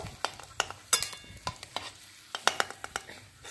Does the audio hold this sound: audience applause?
no